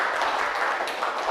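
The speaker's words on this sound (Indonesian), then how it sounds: "tepuk tangan untuk kelompok 1" A classroom group gives a short burst of applause, a brief wash of scattered clapping at moderate loudness.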